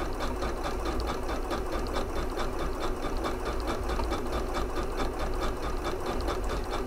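A Janome 9480 sewing machine runs continuously while stitching a zigzag through quilting with glitter thread, producing a steady, loud mechanical whir with rapid needle ticking and no pauses.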